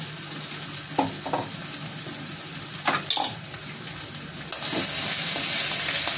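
Masala for an onion-garlic chutney sizzles in a pan on low gas as it is stirred, a steady soft fry with occasional scraping taps of the spoon, close and moderately loud.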